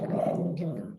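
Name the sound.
dog growling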